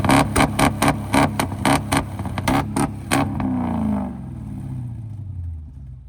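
An Audi with a straight-pipe exhaust and its catalytic converter removed revs hard in a rapid series of sharp, loud bursts at a Bishkek car market, then settles into a rough, droning idle.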